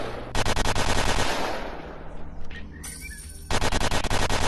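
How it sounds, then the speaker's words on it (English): A machine gun fires in the Rec Room VR shooting range, loud rapid bursts that stop briefly and then resume at full volume. "Yes, I got machine gun!"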